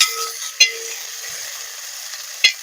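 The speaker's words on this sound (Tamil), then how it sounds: "இது கூடயே கட் பண்ணி வச்சுக்கிற வெங்காயம் அப்படியே லேசாக வதக்கி விட்டுட்டு" Chopped onion sautéing in a home kitchen pan, giving a steady frying sizzle with two sharp stirring clacks, close and fairly loud, with no talking.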